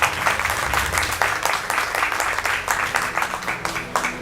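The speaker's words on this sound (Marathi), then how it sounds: "टाळ्यांचा जोरदार प्रतिसाद आहे" Audience applause for a tabla player at a Kojagiri music program: a dense, steady patter of many hands clapping together for several seconds, fairly close.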